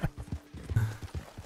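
Horse hooves clip-clop in a quick, close rhythm in the Wild West video game Red Dead Redemption 2, a short run of hoofbeats with a soft snort in the middle.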